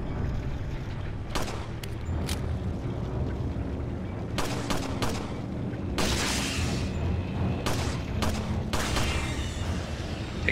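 Pistol shots in the Resident Evil 4 video game crack out in scattered bursts, several sharp reports with gaps between, over a busy game background.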